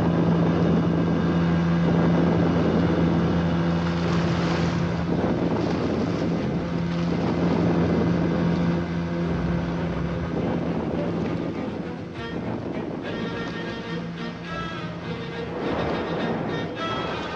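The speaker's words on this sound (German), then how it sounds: "Vier schwere Motoren heulen auf und steuern die Fähre zur Landungsstelle." Four heavy motors on a military engineers' ferry drone loudly and steadily as it crosses a river toward the landing point, a constant throbbing engine hum with wind buffeting the microphone.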